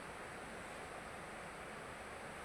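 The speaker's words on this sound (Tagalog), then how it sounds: "Diyan lumalabas yung hangin." A steady, soft whoosh of air streams from the vent of an Orashare device, constant and even with no pauses or changes.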